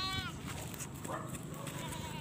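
A goat bleats with a wavering, quavering call near the start, while people talk and other animal noises carry through the background.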